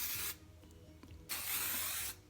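Hairspray with a light to medium hold sprayed from a distance onto curled hair: two steady hissing bursts, each about a second long, close and fairly loud, with a brief quiet gap between them.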